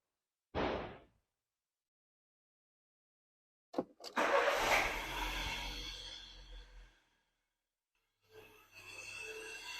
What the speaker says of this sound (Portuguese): Agora nós vamos startar lá a partida e ver o que acontece com essa rotação do motor do carro